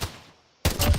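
A SCAR rifle in a Roblox game fires a quick burst of loud, close shots after a short hush, the reports crowding together near the end.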